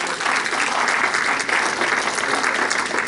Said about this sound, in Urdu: سب تالیوں کی گونج ہمارے تاشی بھائی تک پہنچے گی